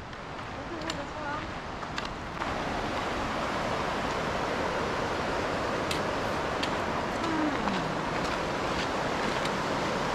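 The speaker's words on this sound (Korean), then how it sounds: "물소리 너무 좋지, 여기." Rushing water at Vernal Falls in Yosemite makes a steady broadband roar under wind, with people talking faintly nearby.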